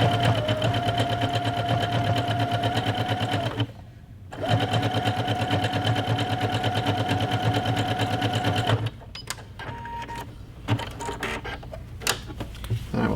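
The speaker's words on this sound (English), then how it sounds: "at the sewing machine, and I have it on a zigzag stitch as wide as possible" A sewing machine running a wide zigzag stitch through quilt fabric, a close, rapid, even mechanical chatter that runs in two long bursts with a short pause between, then gives way to softer clicks and handling noises.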